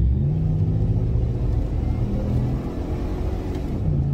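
A Hemi V8 gives a close, deep, throbbing rumble as it revs, low and steady with slight rises and dips and no talk over it.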